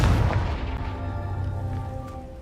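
A Confringo fire spell blast in Hogwarts Legacy, caught as a heavy boom already underway that rolls and slowly decays over a couple of seconds.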